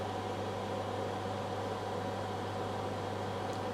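A microwave oven runs at full power, drawing 1370 watts from an EcoFlow Delta 1260Wh power bank with an 1800W pure sine wave inverter, giving a steady, continuous drone and hum with broadband whir.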